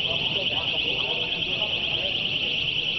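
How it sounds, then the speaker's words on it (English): Alarms going off inside Dallas Love Field airport: a steady, piercing electronic alarm tone that holds continuously throughout, with a murmur of background noise beneath it. "Those are alarms going off inside that airport."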